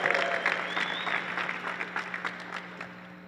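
Audience applause after a host asks listeners who use the Voxer app to clap, a steady patter of many hands across the room with a few louder claps standing out, a low constant hum underneath and no talk.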